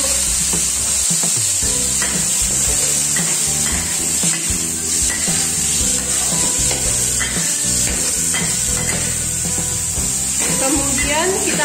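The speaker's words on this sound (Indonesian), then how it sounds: "Masukkan wortel dan tomat yang sudah dipotong, kemudian diaduk." Chopped carrots and tomatoes frying in a pan for cauliflower stir-fry, a steady sizzle broken by repeated scraping and clacking strokes from stirring, close and busy throughout.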